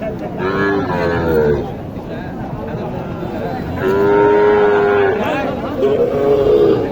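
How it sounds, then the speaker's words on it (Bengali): Cows mooing at a cattle market selling Sahiwal and Gir heifers in Naogaon, several drawn-out moos in succession, loud and near, with crowd babble and traffic noise behind. "এখানে একটি গরু আছে আমরা একটু জানার চেষ্টা করি"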